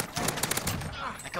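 Assault rifle fire in a video game, a rapid burst of shots rattling out in quick succession for about a second, loud and close.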